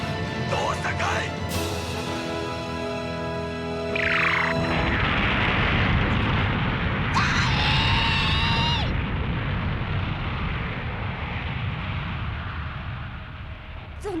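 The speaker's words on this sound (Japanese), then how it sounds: "列車砲内の砲弾が誘爆中。 大爆発を起こします。" A large anime explosion as shells detonate inside a railway gun, a loud roaring burst and crashing blast that swells and rumbles on, mixed with whooshing effects and music.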